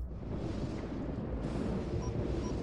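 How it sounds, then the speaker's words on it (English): A big explosion ability goes off in the space strategy game Homeworld, Simplex 4.4 campaign, producing a dense, continuous roaring rumble that stays loud and steady throughout without any talking. "He used this one and then he used the big explosion one."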